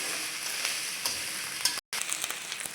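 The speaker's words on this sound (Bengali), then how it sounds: "আদা রসুনটা ভেজে নিব।" Ginger and garlic sizzle in hot oil with whole spices like cardamom, bay leaf and green chilli, a steady crackling hiss with small stirring clicks and a brief break near the end.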